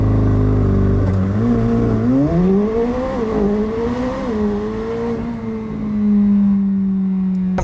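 A sports car launches hard under launch control during 0-60 mph testing, its engine note climbing steadily through the revs in one loud, sustained pull with a brief dip and recovery as it upshifts, up close and without talk.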